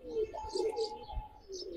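Old-breed round-headed giribaz pigeons coo softly and repeatedly at close range, low rolling calls overlapping under faint background chirps.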